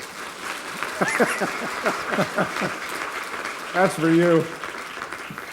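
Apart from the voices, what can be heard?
audience applause in Taiwan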